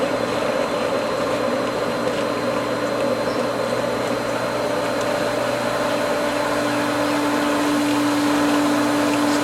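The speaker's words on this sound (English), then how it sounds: "Definitely hearing and feeling a lot of air coming through this valve." A pool pump runs continuously, drawing air through a skimmer valve during pool opening, giving a steady, loud mechanical hum and airy rushing with a faint rising tone toward the end, no talking.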